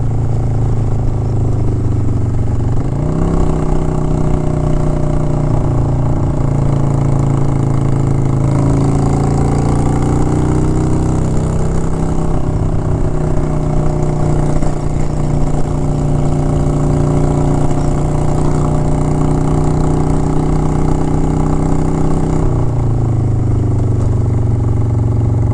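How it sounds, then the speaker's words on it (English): A Honda Shadow 750 ACE motorcycle with an aftermarket exhaust and rejetted carburetor idles high and steady up close, a loud continuous low rumble with slight rises in pitch throughout, no voices. "She's got that high idle, I'll tell you that."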